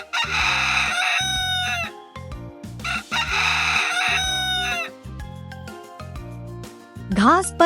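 A rooster crows twice in long, bright calls over a repeating backing tune, then a short squawk near the end, loud and close.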